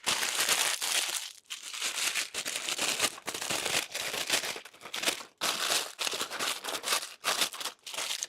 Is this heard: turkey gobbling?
no